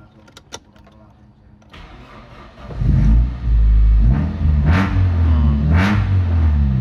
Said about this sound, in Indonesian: Starterannya mudah, knalpotnya sudah embler bosku.